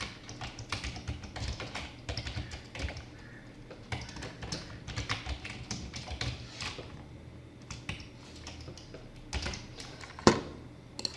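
An email address is typed on a computer keyboard, a run of close, quick key clicks in uneven bursts with short pauses and a sharper tap near the end, all at a fairly quiet level.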